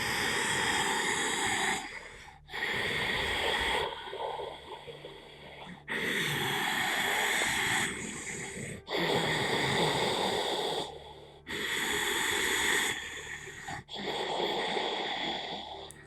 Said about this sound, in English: The noise is like the Darth Vader's breathing, if you know Star Wars.